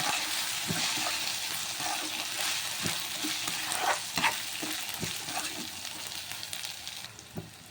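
Spices with salt, turmeric and chilli powder sizzle and fry in a pan during a home cooking session, with steady hissing and irregular scraping clicks of a spoon stirring throughout, close and continuous, no talking.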